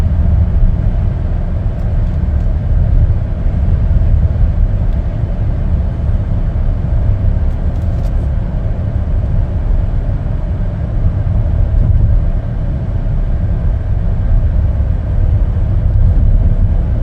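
A 2019 Chevrolet Traverse AWD LT on a test drive: steady, loud cabin road noise with a low engine and tire rumble droning throughout, unbroken and without talk.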